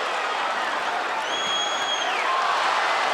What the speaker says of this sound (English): And you hear how the crowd's energized when Margarito goes to work